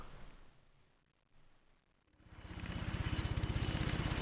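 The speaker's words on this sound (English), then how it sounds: "Boss sends his own private helicopter to get an agent back" Private helicopter in the Beyond: Two Souls video game arriving to pick up an agent, a rotor chop that swells from faint and distant into a loud, rapid, steady thumping as it closes in.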